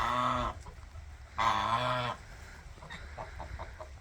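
Loud honking calls from geese in two bursts, then quieter clucking and scattered bird calls from turkeys and other poultry nearby on a farm.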